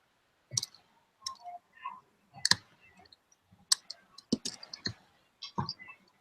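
Scattered clicks and taps on a computer keyboard during an online meeting, in short irregular bursts with pauses, close and fairly quiet, with faint background voices in places.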